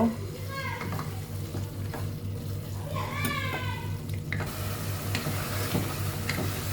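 Prawns fry and are stirred in spice paste in a home kitchen, giving a steady close sizzle with spoon scrapes while children's voices chatter in the background.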